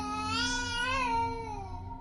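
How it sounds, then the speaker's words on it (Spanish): Baby crying in a horror story sound effect, a loud wailing infant cry with rising and falling pitch across two seconds, heard alone without talk. "volví a escuchar el mismo llanto del bebé"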